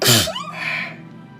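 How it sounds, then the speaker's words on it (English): A single sharp, loud sneeze bursts out close up, followed by a brief trailing exhale that fades quickly. "So I'm going to sneeze."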